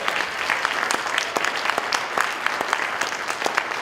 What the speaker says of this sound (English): she deserves a round of applause for that, don't you think?